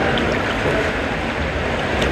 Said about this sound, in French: Donc voilà pour ce bassin à vagues.